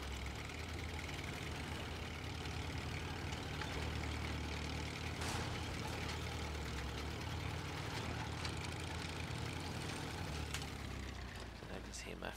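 Truck engine idling in the Snowrunner video game, a steady low rumble with broad mechanical noise that holds at an even level throughout, with no other sounds over it.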